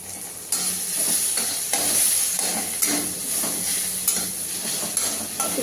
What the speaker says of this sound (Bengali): এখন ভালো করে ভেজে নিই